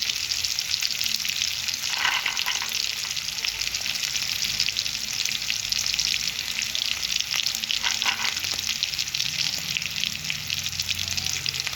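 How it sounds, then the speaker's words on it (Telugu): Onions fry on a high flame for a dhaba-style chicken curry with a steady, loud sizzle, broken now and then by brief stirring scrapes. "హై ఫ్లేమ్లో పెట్టుకొని బాగా ఉడికించుకోండి ఆనియన్స్ని"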